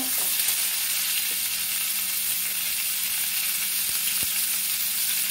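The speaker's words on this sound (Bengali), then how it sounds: "এবার কামরাঙ্গাগুলোর মধ্যে ছেড়ে দেবো। এটাকে একটু ভেজে নেব।" Star fruit pieces fry in a pan with dried red chilli and five-spice seeds, giving a loud, steady, close sizzle throughout with a few faint clicks.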